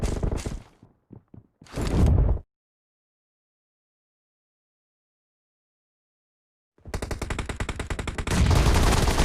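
Automatic rifle fire in the mobile shooter game PUBG Mobile: a short clipped burst and a few single shots, then silence, then a loud, sustained rapid volley of close gunfire.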